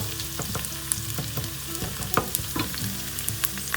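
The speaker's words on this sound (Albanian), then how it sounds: "Do t'i skuqim sa kemi thënë, pra që qepa mos të digjet" Chopped onion frying in a pan while being stirred: steady crackling sizzle broken by frequent sharp scrapes and taps of a utensil, close and fairly loud, with no talking.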